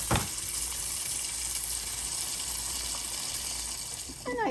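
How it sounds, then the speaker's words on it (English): Cherries with stems still on are swished and rinsed in a large bowl of water, giving a steady close splashing wash that runs through the clip with small sloshes near the start and end. "I place my cherries in a bigger bowl, and with the stems on, I'm going to wash them"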